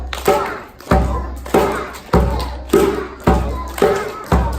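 An audience at a rhythm and music education session slaps knees and claps in a steady low-high pattern, each beat a sharp group hit that decays before the next, with a voice leading faintly between strokes.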